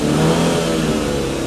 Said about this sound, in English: So we'll just give it a little rev.